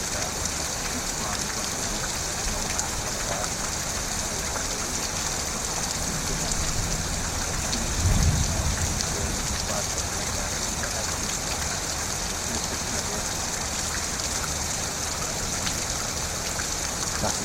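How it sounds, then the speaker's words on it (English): Steady rain pours down continuously, a dense hiss filling the scene, with a brief low rumble partway through. "I like the sound of the rain"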